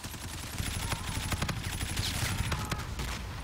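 Rapid gunfire in the video game Call of Duty: Infinite Warfare multiplayer, bursts of shots crackling over a dense, loud mix of game noise, with a voice faintly underneath.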